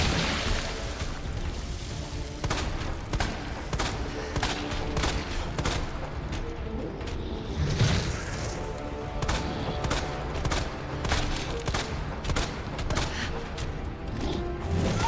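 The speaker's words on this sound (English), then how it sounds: "I do want to spam my acid rounds" Rapid bursts of acid rounds fired in Resident Evil, a dense crackling barrage of repeated shots over steady game noise, loud and continuous throughout.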